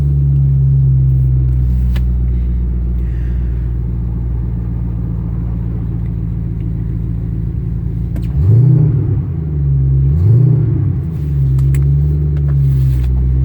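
Wrecked Ford Mustang GT with 96,000 miles, engine running with a loud, deep steady rumble, close by, and two short revs that rise and fall in the latter half.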